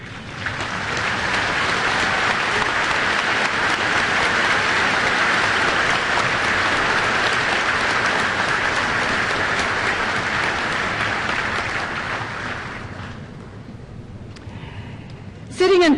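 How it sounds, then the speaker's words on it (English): A large audience applauds at a college commencement ceremony, a long, steady wash of clapping that holds for about thirteen seconds, then thins out and dies away as a voice begins. "please rise and let us give you a round of applause"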